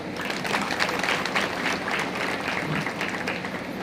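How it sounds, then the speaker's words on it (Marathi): Sustained applause from a gathered audience honouring women at a women's foundation event, steady and fairly loud throughout with no gaps. "आपल्यातल्या प्रत्येकीसाठी टाळ्या झाल्या पाहिजेत"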